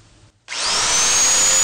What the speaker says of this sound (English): Now I'm going to squeeze the trigger on the drill and apply heat to the thermistor with my thumb,